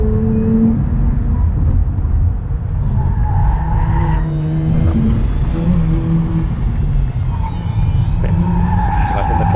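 A race car slides around a track with tires squealing in wavering whines over a loud, steady engine roar; the sliding cars may be a Mazda RX-8 and a Nissan 200SX S14A Z Edition.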